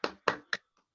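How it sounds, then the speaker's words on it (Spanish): A few sharp hand claps, three distinct near strikes in quick succession, followed by silence. "Un aplauso de mi parte."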